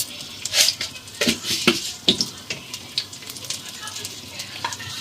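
Fenugreek seeds fry in hot coconut oil as the base of a fish curry. A close, crackling sizzle runs throughout, punctuated by sharp spatters and the clink of a stirring utensil against the pot.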